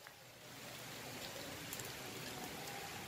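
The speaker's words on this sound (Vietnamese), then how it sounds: "Trời đang mưa lâm râm nữa" Steady light rain patters softly and evenly, a gentle hiss of fine drops with no voices, falling outdoors in Đồng Tháp, Vietnam.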